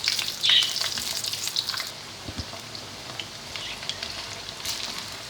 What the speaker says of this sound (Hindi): ऑयल हमारे गर्म हो गया, इसमें हम अपने ये आलूओं को हल्का सा फ्राई करेंगे।